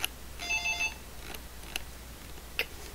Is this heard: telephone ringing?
yes